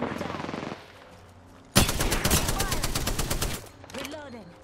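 A sudden burst of rapid automatic gunfire in Apex Legends, loud and close, lasting a couple of seconds, with game voice lines before and after.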